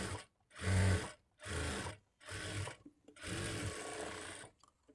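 An electric sewing machine stitching a folded shape belt onto a blouse runs in four loud, close bursts of steady whirring, separated by short pauses, with the last burst the longest.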